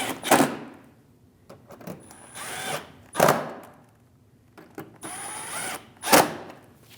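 Bolts are snugged down on a Chevrolet Malibu's fender liner and bumper cover, with three loud, close whirring bursts of a power tool separated by brief pauses.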